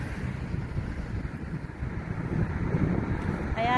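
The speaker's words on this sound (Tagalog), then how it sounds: "masyado pong mahangin guys" Strong wind buffets the microphone outdoors near the water, a loud continuous roar with gusty swells and no talk.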